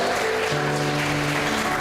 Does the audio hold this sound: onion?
no